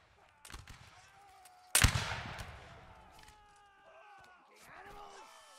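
Musket fire in a Napoleonic Wars video game, with scattered shots and one loud, close crack that rings out, while players talk over a radio-style voice chat.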